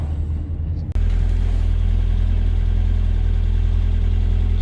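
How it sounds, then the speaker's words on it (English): A classic Mini SPI idling nearby, a steady low rumble that starts abruptly after a brief quieter moment and holds even and continuous to the end. "So this is the idling"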